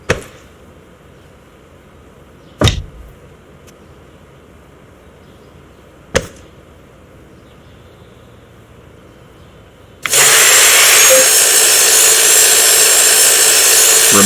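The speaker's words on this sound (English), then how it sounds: "Take it from the wall and place it under the saw and cut it to length." A saw cuts a 2x4 to length: after a few sharp knocks and thuds from placing the board, a loud, steady, close cutting roar starts and runs unbroken to the end.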